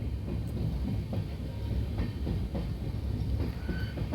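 A Cuddalore to Mysore Superfast Express runs steadily on the rails near the Sirkazhi river after leaving Chidambaram, a continuous close rumble with rattling carriages and faint clickety-clack, no voices.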